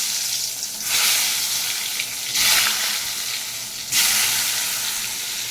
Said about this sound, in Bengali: এদিকে কড়াইতে আমি বেগুন ভাজা বসিয়ে দিচ্ছি।